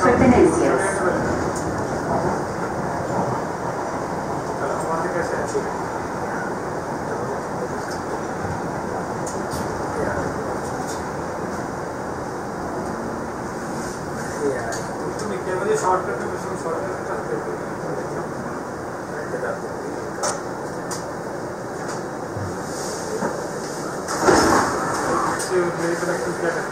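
A MARTA Red Line subway train rolls between North Springs and Airport with a steady, loud rumble of wheels and motors throughout, while onboard announcements are spoken over the running noise.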